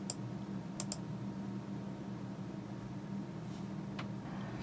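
A few sharp, crisp clicks, like a computer mouse being clicked on a lottery results website, stand out over steady low background hum, with two quick clicks near the start and another faint one later.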